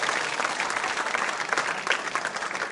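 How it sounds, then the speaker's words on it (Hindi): Applause from a school audience at a quiz show, steady dense clapping filling the whole stretch at moderate loudness with no voices over it. "तो फिर जोरदार तरीके से तालियां बजाइए।"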